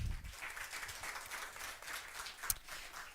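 Congregation applause during a church sermon, a soft steady patter of many hands with one sharp clap standing out.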